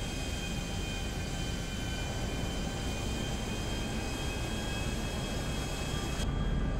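Cabin of an airplane in Grand Theft Auto V, a steady, even roar of engine and airflow droning unbroken throughout at moderate level, with no voices.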